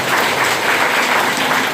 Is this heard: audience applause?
yes